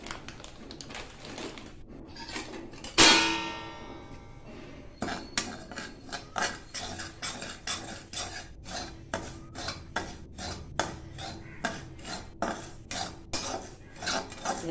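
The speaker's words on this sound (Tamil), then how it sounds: "கொஞ்சோண்டு ரவை எடுத்து கொஞ்சம் வறுத்து வச்சுக்கிங்க" A metal spoon scrapes and clinks against a pan as semolina (rava) is dry-roasted for kesari, a steady rhythmic scraping with one sharper clatter early on, close and fairly quiet.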